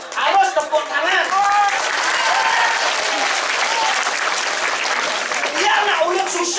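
Applause from a crowd at a Balinese barong performance, clapping that swells and holds steady while people laugh and call out over it.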